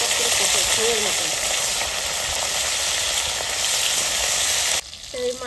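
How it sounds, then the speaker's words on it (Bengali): Fish fries in a pan with a loud, continuous sizzle and crackle of hot oil up close, ending abruptly near the end as the frying noise drops away. "বেশি কড়া করে ভাজবো না, হালকা করে ভেজে নেব"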